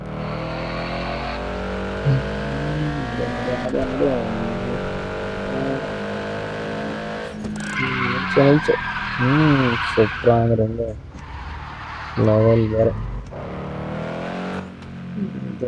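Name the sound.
car engine revving and skidding in video game Mad Out 2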